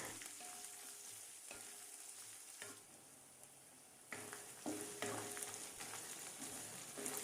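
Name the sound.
onions frying in a pan for red chutney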